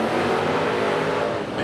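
A modified race car pulls away from pole at a Huntly speedway meeting. Its engine makes a loud, steady, continuous roar that stays up close and constant throughout, with no pauses.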